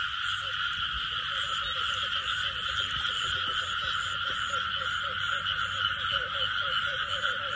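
Male field frogs croak at night in a rice paddy, a dense, continuous chorus of many calls close by and loud, with no talk over it.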